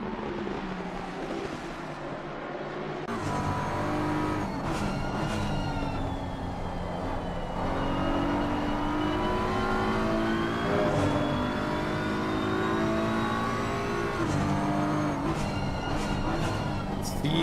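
Simulated GT3 race cars, including a Lamborghini and a BMW, roar and rev around Watkins Glen, engine notes rising and falling through gear changes, loud and continuous, with a commentator talking over them.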